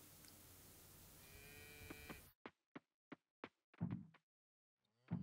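A cow moos in the Coral Island farming game, a single low call standing out over a quiet stretch of game sound and soft clicks.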